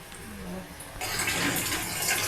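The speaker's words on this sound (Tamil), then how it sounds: "புளி தண்ணி சேர்த்துக்கலாம்." Tamarind water poured into a simmering fish curry with dried fish, a soft hiss that swells into a steady close splashing pour halfway through and continues to the end.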